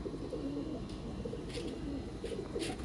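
A breeding pair of Kalduma pigeons coos softly, with low murmuring coos repeating over a steady, noisy background.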